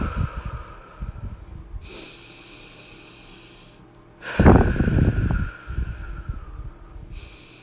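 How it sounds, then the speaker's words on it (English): Deep cleansing breaths during a live intention-setting and manifestation exercise, with a slow inhale and a strong, close exhale, separated by quieter pauses. "Together we're going to take 3 deep cleansing breaths."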